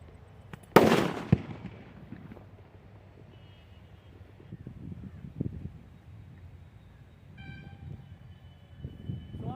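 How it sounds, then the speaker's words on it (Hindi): A land mine explodes in a demonstration of a pressure-triggered device: one sharp, loud blast early on, with rumbling that decays over a few seconds, then quiet outdoor ambience with faint scattered noises. "यहाँ पे जैसे ही कोई टेररिस्ट इस पे पैर रखता है वो तुरंत विस्फोट हो जाता है"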